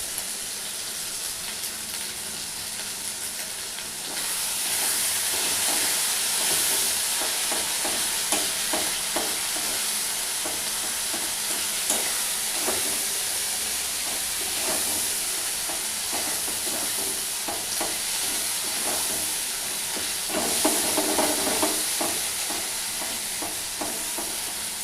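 Spice masala with salt is stir-fried in a pan, a steady loud sizzle with frequent scraping stir strokes running throughout, close and continuous without speech.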